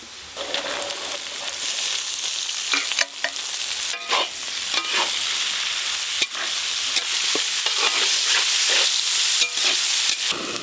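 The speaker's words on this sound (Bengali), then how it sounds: "এখানে ক্যাপসিকাম আছে, মটরশুঁটি আছে আর কাজু কিশমিশ সব একসঙ্গেই ভেজে নেব।" Capsicum, peas, cashews and raisins fry together in a pan for fried rice, giving a continuous close sizzle with frequent sharp scrapes and clinks of a spoon stirring through the mix.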